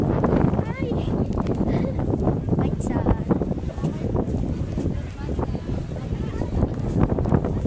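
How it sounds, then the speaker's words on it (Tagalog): Strong coastal wind in Calatagan, Batangas buffets the microphone in a steady, roaring rumble throughout, loud and close, with gusts rising and falling. "Sobrang lakas nga pala ng hangin dito"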